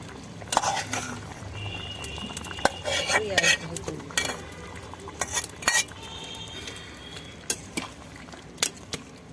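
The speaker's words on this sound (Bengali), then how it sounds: "এই যে দেখুন টকবক করে একদম করে ঝোল ফুটছে" Mutton curry broth for a goat liver and fat jhal boils in a pot, a soft bubbling nearly buried under repeated sharp clinks and scrapes of a spoon against the metal.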